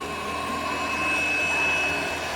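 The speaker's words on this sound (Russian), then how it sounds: "По сравнению с iRobot Scuba пылесос работает реально тише." iLife ShineBot W450 robot mop running indoors, giving a steady, fairly loud whirring motor drone with a faint high whine throughout and no speech.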